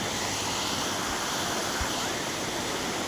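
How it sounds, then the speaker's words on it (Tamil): Jogini waterfall near Manali roars in a steady, dense wash of rushing water, loud and continuous with no voices. "தண்ணி சவுண்டு சூப்பராக அருமையாக இருக்குது."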